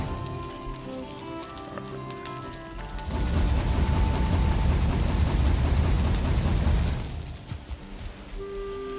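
In the Valheim video game world, a thunderstorm brings a burst of rain and rolling thunder that surges loudly in the middle and then fades back to a quieter ambient bed, with no voices.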